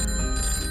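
A telephone rings in a short, bright, bell-like burst, loud and close, with no talking over it.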